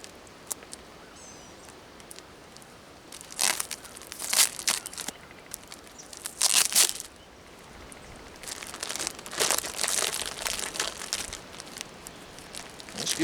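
Plastic packaging of a ten-pack of fabric grow bags crinkles and rustles in bursts as it is handled and torn open up close, with quiet pauses between the crackling stretches.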